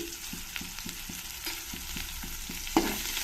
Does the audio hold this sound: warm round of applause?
no